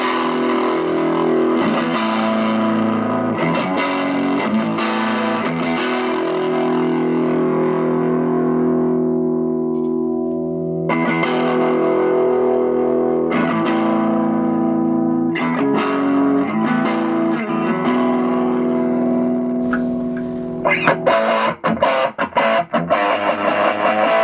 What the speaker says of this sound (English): JHS Superbolt.